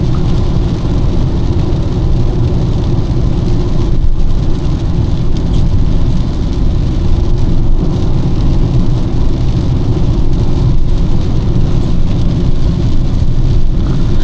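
A car accelerates on a Malaysian road, a loud, steady rumble of engine and road noise heard from inside the vehicle for the whole stretch, with no voices.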